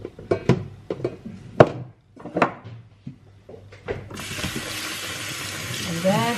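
Quinoa being rinsed under a running kitchen tap, a steady broadband rush of water that starts partway through and continues to the end, preceded by clattering and handling sounds and some talk.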